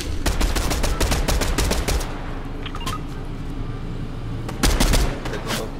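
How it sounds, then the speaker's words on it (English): Rapid bursts of gunfire from the video game Fortnite, loud and near, with dense shots in the first two seconds, a quieter stretch, then another burst near the end. "I'm getting shot at."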